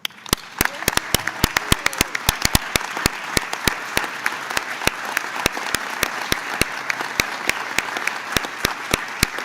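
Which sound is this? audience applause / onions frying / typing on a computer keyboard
audience applause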